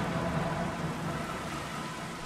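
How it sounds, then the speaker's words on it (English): Steady rain falling through the night in a video game, a dense even hiss that holds at the same moderate level from start to finish, with no other sounds over it. "sleep through this rainy night that we have on us"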